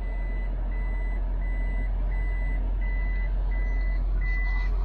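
A Toyota Prius sounds its reversing warning, a regular series of high electronic beeps repeating about every half second over a loud, constant low rumble, with no voices.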